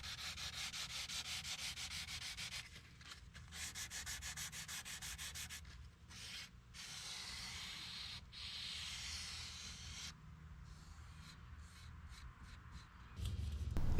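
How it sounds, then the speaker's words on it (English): A furniture edge is hand sanded with 320 grit sandpaper: rhythmic back-and-forth rasping strokes in bursts, separated by brief pauses, close and fairly quiet. "Then I do a quick sanding with 320 grit sandpaper."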